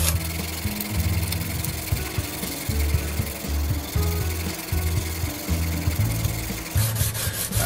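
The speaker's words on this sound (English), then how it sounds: "This is where I'm cutting it away with the diamond" A tungsten carbide lathe tool being hand-ground against a diamond wheel, a close, steady rasping rub with rhythmic strokes repeating back and forth, no talking.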